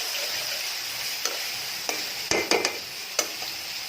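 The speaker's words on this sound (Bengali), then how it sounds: "এদিকে মশলা কষাচ্ছি, এদিকে মাছ ভাজতেছি।" Fish fries in a pan beside spices being sautéed with potato and eggplant, a steady hiss of sizzling oil punctuated by several sharp clinks and scrapes of a utensil against the pan.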